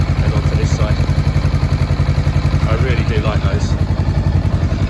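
A 2017 Honda CMX500 Rebel ABS motorcycle engine runs at a steady, throbbing idle with a rapid regular low pulse, close and loud, while someone talks over it.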